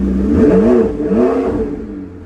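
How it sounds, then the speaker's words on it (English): A 2015 McLaren 650S Spider engine revs with the back window down, two loud rising and falling blips in quick succession, close and unaccompanied by talk. "this is with the back window down. I'm going to rev it up"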